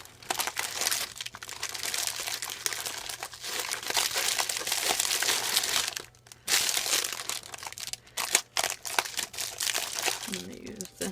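Plastic mail packaging crinkles and crunches continuously as a small package is handled and opened, with brief pauses and someone speaking over it.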